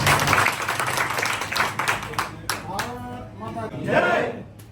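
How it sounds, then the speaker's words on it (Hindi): An audience at a school event in Biaora applauds to welcome a politician to the stage, a dense crowd sound lasting throughout. A loud voice calls out over it partway through. "भाई साहब का ताली स्वागत करें"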